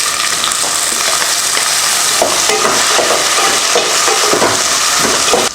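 Tomatoes frying in a pan over softened onions, a loud constant sizzle with irregular stirring scrapes layered on top, no one speaking.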